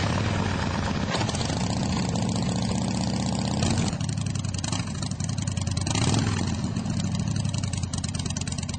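An engine runs continuously and loudly up close, a throbbing idle that swells into revs and eases back, with no other sounds alongside it.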